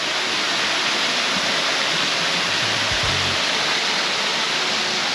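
Steady broadband rush of a waterfall near Roche Abbey, continuous and fairly close, with a brief low thump partway through and no voices.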